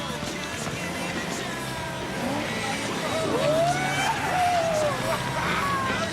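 A Cadillac car accelerates hard away, its engine roaring louder as tyres squeal in rising and falling screeches, close and prominent, with voices shouting briefly over it.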